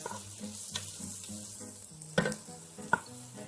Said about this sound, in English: Add the garlic, give it a nice stir.